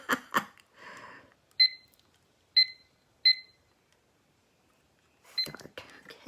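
A kitchen-style timer being set up and started gives three sharp, evenly spaced electronic beeps at close range, with handling clicks before them and more beeps and rustling near the end.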